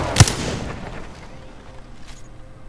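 A single sharp, loud shotgun blast fires in the Apex Legends video game, followed by a decaying echo and faint background sounds.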